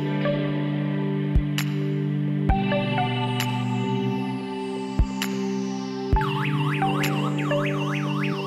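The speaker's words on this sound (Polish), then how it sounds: "Spróbuję teraz uzbroić i rozbroić alarm." A GSM alarm system being armed and disarmed emits a series of beeps and chirps with sharp clicks, then breaks into a warbling siren tone, loud and close.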